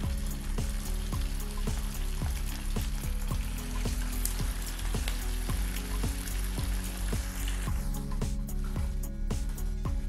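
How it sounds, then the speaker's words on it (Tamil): Chicken lollipop pieces fry in hot oil on a medium flame, a dense close sizzle with steady crackling and popping that keeps going, with no talking. "எண்ணெய் நல்லா சூடு ஏறின பிறகு அடுப்பை வந்து கம்மியாக வச்சுருங்க. இப்போ ஒவ்வொரு பீஸாக எடுத்து உள்ளே போட்டுருங்க."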